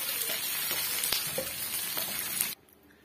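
Mini appam batter cooking with a little oil in a pan gives a steady close sizzle with scattered crackles and pops, then cuts off abruptly near the end, leaving near silence.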